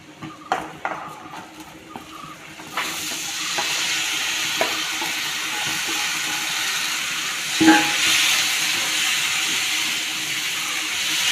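Achinga long beans tipped into a pan of hot oil with chilli powder, a few clattering knocks at first, then a sudden loud steady sizzle that swells briefly as the beans are turned, close and without talk.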